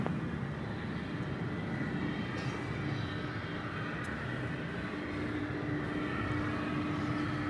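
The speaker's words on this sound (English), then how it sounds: "we get another takeoff here on the west side" A jet airliner taking off at night from the west side of DFW Airport, a steady, loud broadband engine roar that holds throughout with little change, carried at a distance across the airfield.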